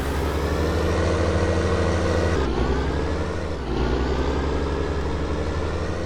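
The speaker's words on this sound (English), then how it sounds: "I like how it sounds when it shifts gears." A tractor engine in Farming Simulator 19 drones steadily, its pitch dropping sharply twice as it shifts gears and then climbing again.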